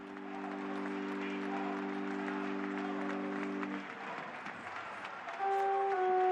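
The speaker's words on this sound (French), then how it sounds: "Et les applaudissements de l'assistance comme dernier adieu." Congregation applauding at the funeral Mass of Pope Benedict XVI, a broad steady wash of clapping from a large crowd, with sustained organ-like tones beneath it and a brief shift in the middle.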